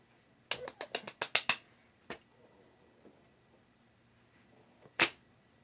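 A quick burst of sharp hand claps rings out close together, followed by a lone clap and then a final clap after a pause, crisp against a quiet background.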